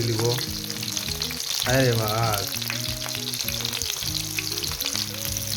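Fish fries in hot oil in a home kitchen, a steady loud sizzle and crackle with stirring clatter, while a voice and background music play over it.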